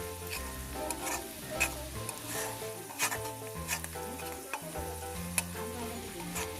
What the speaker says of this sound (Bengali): শুকনো গুঁড়ো মরিচ দেওয়ার পরে হালকা নেড়ে নেব